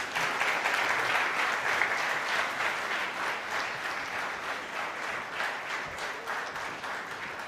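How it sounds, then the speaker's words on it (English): Steady applause from a crowd at a banking conference in a Mumbai hotel, dense clapping that holds at fairly even loudness for several seconds before easing slightly. "Request everyone to please welcome him with a round of applause"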